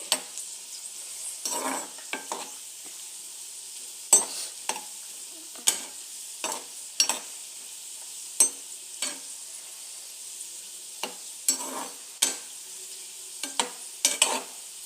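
Potato french fries frying in oil over low-medium heat, a soft steady sizzle broken by repeated scraping stirs of a spatula in the pan at irregular intervals, close by with no talk.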